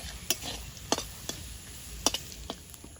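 Whole cumin seeds and garlic fry in hot oil with a soft, steady sizzle, broken by sharp clicks and scrapes of a utensil stirring in the pan.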